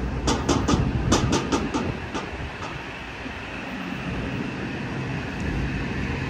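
A train rolls past at Stamford train station with rhythmic clacking of wheels over rail joints, loud at first and then settling into a steady rumble.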